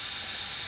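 Steady, loud hiss of air escaping from the leaking air valve of a Vulcan tire machine, continuous and close with no break.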